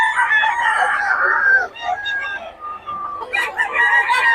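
Several chickens and roosters crowing and clucking close by at a poultry sale in Bocaue, overlapping calls in bursts, with a brief lull midway before more crowing.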